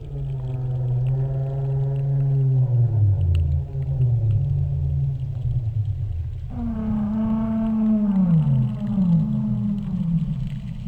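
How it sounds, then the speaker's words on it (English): Whale-song-like calls on track 6 of a surround album: two long, loud, low moaning tones that slide downward, over a deep, steady rumble. "what sound like whale songs on track 6"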